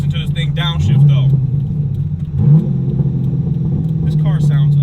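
A 600 hp C5 Corvette Z06 V8 rumbles close by and blips its revs upward twice as it downshifts. A voice talks over the engine.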